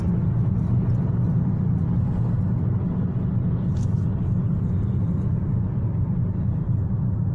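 A car drives along a Moscow highway, Pyatnitskoye Shosse, heard from inside as a steady, loud low road rumble with no breaks.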